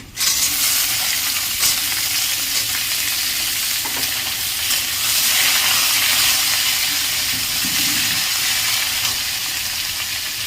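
Potatoes frying in a pan for a Bengali ghat dish, a steady loud sizzle and hiss running throughout with occasional stirring scrapes and no voices.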